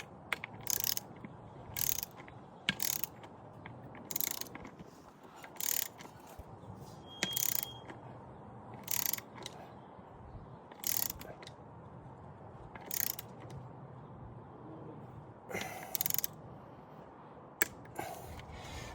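Ratcheting clicks from a torque wrench tightening bolts on Raceline Ryno beadlock wheels, coming in short repeated bursts of sharp clicks with pauses between, close by over low background hum.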